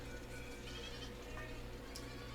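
Goats bleat at a goat farm in the video game Land of the Vikings, faint and distant under a steady bed of low ambient game sound, with one brief higher call near the end.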